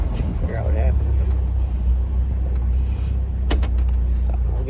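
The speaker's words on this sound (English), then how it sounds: "I'm just going to back up and drive forward a couple times." A car with freshly installed drum brakes backs up and then drives forward, its engine giving a steady low rumble with a few light clicks and knocks and no talking.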